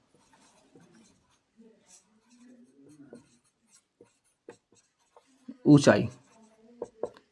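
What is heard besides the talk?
writing by hand during a maths lesson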